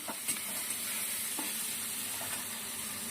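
Onion, chilli and amudi fish fry in a pan with a steady, soft hissing sizzle and a few faint stirring taps, no voices over it.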